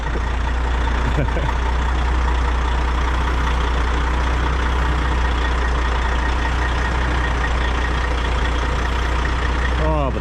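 A truck engine runs loud and close, a steady heavy low rumble throughout with no clear rev peaks, while the truck is readied for a trip and voices murmur faintly.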